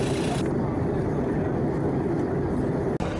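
Steady broadband roar of airplane cabin noise aboard an EasyJet flight out of Manchester Airport to Geneva, continuous and loud throughout with a brief dropout near the end, with some talking beneath the drone.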